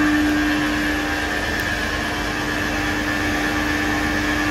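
A Haas Mondomix UE50 continuous aeration mixer runs with a loud, unbroken whirring drone and a steady tonal whine, with no talk and no change in level.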